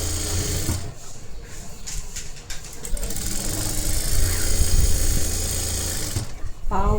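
A sewing machine runs fast and steady, stitching a designer netted blouse, its rapid mechanical chatter continuous at moderate loudness, with someone speaking over it.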